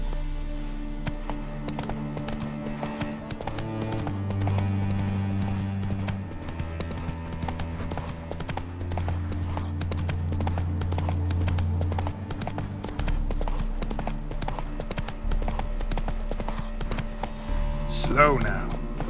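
Hooves of Roach, a horse in The Witcher 3, clip-clop in a steady rhythm over a game soundtrack of sustained low music, with a brief jingle near the end.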